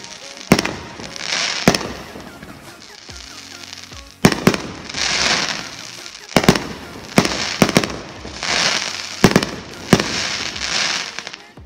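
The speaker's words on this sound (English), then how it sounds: "quick pause in our installation to watch the fireworks" Fireworks exploding outdoors on New Year's, with sharp loud bangs arriving in clusters between stretches of crackling, rumbling aftermath, repeated several times across the span.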